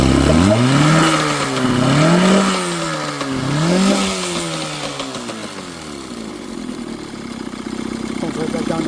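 A used boat outboard motor revs up and down several times in rising and falling swells, then settles back toward a steady, loud idle, close by.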